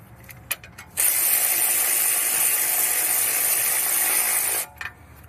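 A ratchet tightening the ball joint bolts on a Hyundai Sonata during a CV axle replacement, one loud, continuous run of rapid clicking lasting several seconds, close by, with a few short clicks before and after.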